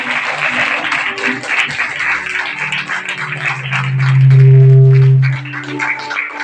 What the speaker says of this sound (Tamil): உங்கள் சார்பாக சபையின் சார்பாக நல்ல கைத்தட்டி அவர்களுக்கு வாழ்த்துக்களை நன்றி